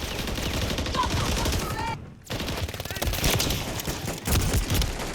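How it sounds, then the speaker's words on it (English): Constant gunfire in a video game shooter where an MCPR 300 sniper rifle is in use, with dense rattling bursts from many guns close and far that barely stop, cutting out briefly once. "There's so many bullets flying that I don't even know where they're coming from."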